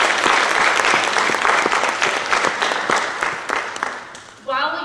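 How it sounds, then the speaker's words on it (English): A concert audience at a middle school band performance claps loudly for the band students, a dense, sustained round of applause that gradually thins and fades before a voice begins speaking at the end. "Let's give them a round of applause."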